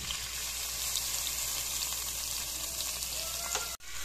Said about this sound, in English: Now I'm going to mix my rice up in the oil until it's like a very, very light brown